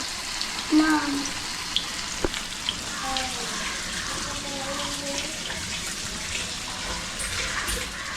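Vada batter sizzles and crackles steadily in hot oil in a home kitchen, a soft continuous frying hiss with a few sharp pops and quiet voices in the background.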